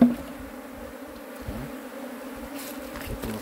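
A swarm of bees buzzes steadily around a hive box in a shed, a dense, even drone filling the whole stretch at moderate loudness with no talk.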